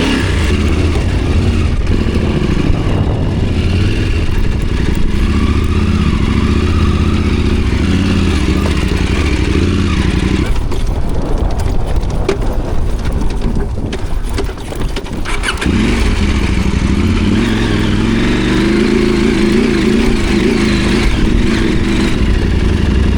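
Yamaha T7 adventure motorcycle engine revving loudly and steadily close by, with a rougher burst of throttle midway, no talk over it.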